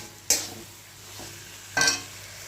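Mutton and liver with whole garlic stir-fried in a pan, two sharp scraping clatters of a utensil against the pan, with a fainter stir in between, over a low steady sizzle.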